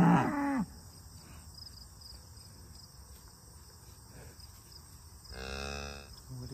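A heifer moos loudly nearby at the start and again near the end, with crickets chirping steadily in the quiet farm background between calls.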